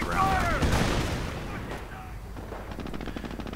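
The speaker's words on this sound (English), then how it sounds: "But coming under fire themselves, anti-tank gun firing away." Anti-tank gun and machine gun fire in a World War II strategy war game, a burst of sharp shots and booms up front that fades into a faint rattling volley.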